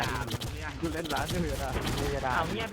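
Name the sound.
gunfire from a video game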